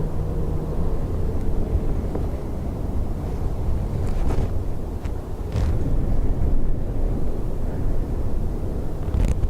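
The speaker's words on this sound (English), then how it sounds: "So ATR from Manchester next." An ATR turboprop arrives at Dublin Airport on a windy day, heard as a low, rumbling drone half-buried in heavy buffeting wind noise across the microphone.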